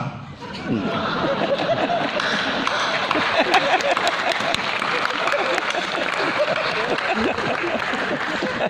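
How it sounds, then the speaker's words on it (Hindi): Audience at a Hindi poetry recital in Bhopal's Ravindra Bhawan breaks into loud, continuous applause mixed with laughter and chatter, a dense wash of clapping that holds steady for several seconds. "और तालियां तो अब उठेंगी।"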